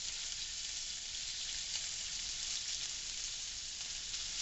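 Pork browning for green chile stew sizzles in about a tablespoon of oil, a constant crackling hiss of frying that holds steady, close and alone.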